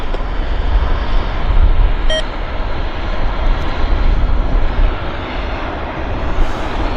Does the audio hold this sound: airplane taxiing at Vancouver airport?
yes